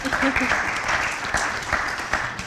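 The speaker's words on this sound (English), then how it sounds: "Give her a round of applause." An audience claps steadily, a dense wash of applause from many hands that carries on without a break.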